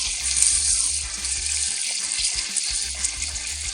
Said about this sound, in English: I kind of let the frying action start so that way it doesn't just sink to the bottom right